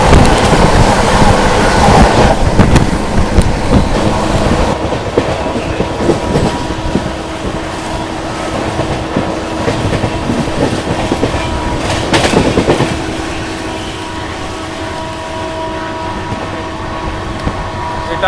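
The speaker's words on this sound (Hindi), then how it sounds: "इटावा जंक्शन को स्किप कर रही है अपनी बिहार संपर्क क्रांति।" The Bihar Sampark Kranti Express runs through Etawah Junction without stopping, a loud continuous rumble with clickety-clack of wheels over rail joints and wind rush, heard close throughout.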